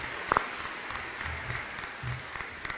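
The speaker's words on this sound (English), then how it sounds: "Would you please give them a round of applause?" Graduation ceremony audience giving a round of applause for the deans, a soft, diffuse patter of clapping heard from a distance with a couple of sharper nearby claps.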